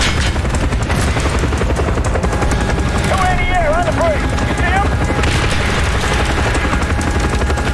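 Call of Duty Black Ops gameplay fills with loud, dense gunfire and explosive booms over a whirring helicopter, with a brief warbling tone in the middle.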